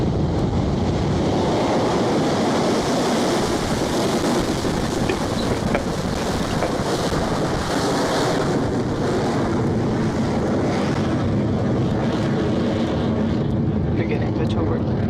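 A Rocket Lab rocket's engines roar at liftoff, a dense rumbling blast that holds steady and loud throughout, with a faint voice over it.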